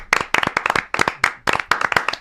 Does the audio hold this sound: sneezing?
no